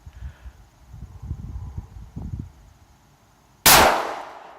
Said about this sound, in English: I am going to go ahead and I'm going to shoot again.